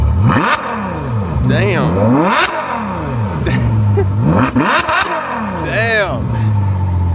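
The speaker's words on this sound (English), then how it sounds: "All right, I'm gonna rev it." A warm Ferrari 812 Superfast V12 revved hard in repeated loud, rising-and-falling blips close by, with people talking briefly between the revs.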